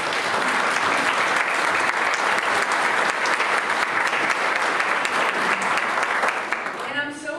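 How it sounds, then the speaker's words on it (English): An audience at an adult education program celebration applauds the staff and faculty in a steady, full round of clapping that carries for several seconds before starting to thin out at the end. "So let's give some round of applause to the staff and faculty"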